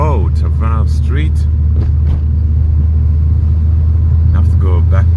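An Audi S3 8L engine held in second gear while rolling downhill, giving a steady, loud low rumble throughout, with someone talking over it in bursts.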